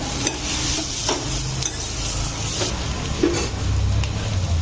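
Capsicum and curry leaves fry in a pan while being stirred, giving a steady close sizzle with occasional scraping and spoon clinks.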